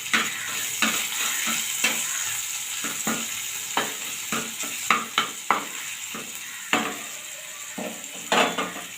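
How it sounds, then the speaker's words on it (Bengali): Chopped ginger and one green chili are stirred in a hot frying pan, with a steady sizzle under repeated scraping taps of the spoon against the pan. "কাঁচা আদার গন্ধটা চলে যাওয়া অবধি একটু নাড়তে হবে।"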